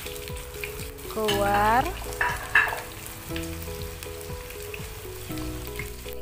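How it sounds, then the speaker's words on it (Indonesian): Thinly sliced onions sauté in a hot pan with a steady close sizzle and frying crackle, a louder burst as they are stirred, under light background music and a brief spoken word. "Kemudian tumis bawang bombaynya yang sudah diiris-iris tipis tadi."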